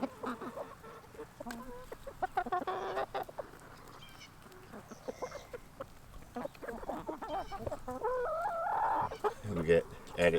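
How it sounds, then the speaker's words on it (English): A backyard farm flock of chickens, including Ameraucanas and olive eggers, clucking and squawking continuously at moderate distance, with a goose-like honk mixed in and a person talking quietly at times. "We added some Americanas and olive eggers to our flock."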